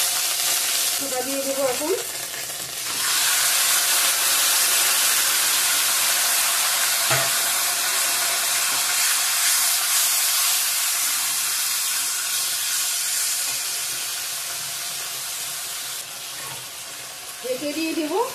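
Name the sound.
sizzling of crushed ginger added to hot tempering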